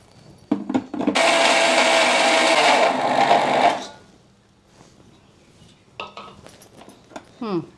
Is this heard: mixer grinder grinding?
yes